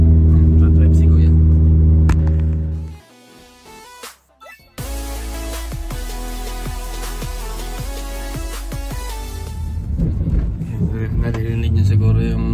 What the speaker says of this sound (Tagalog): Naririnig nyo siguro yung sports car natin